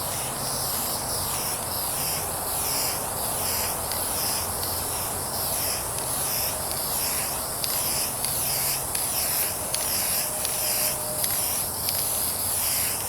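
An aerosol rattle can laying a light mist coat of paint on the hood of a 1998 Toyota Corolla, a continuous close, bright hiss held steadily with small surges, with no talking.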